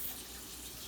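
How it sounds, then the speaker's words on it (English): A kitchen sink tap runs cold water over pasta, a steady broadband hiss of flowing water, soft and continuous in the background. "Sorry if you hear my water running in the background."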